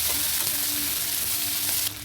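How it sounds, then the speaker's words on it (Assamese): Onion, ginger and garlic frying slowly in a pan, giving a steady, close sizzle with a faint high whine underneath, which cuts off abruptly near the end. "এতিয়া ধুনীয়াকৈ ৰঙচুৱা নোহোৱালৈকে লাহে লাহে এনেকৈ ভাজি আছোঁ।"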